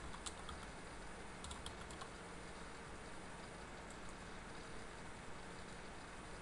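Someone types steadily on a computer keyboard to enter a user ID and password in accounting software, with soft continuous key clatter under a heavy hiss of background noise.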